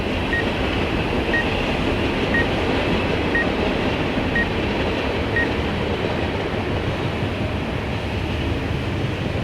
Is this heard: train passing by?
yes